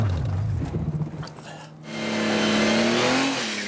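A car engine revs hard during a burnout attempt on a test track, first a rough, pulsing rev, then a brief dip and a loud, sustained climb in pitch close to the microphone.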